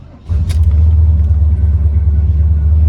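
A 502 carbureted V8 in an El Camino cranks and catches, then settles into a loud, deep, steady rumbling idle right up close after a brief starter whir.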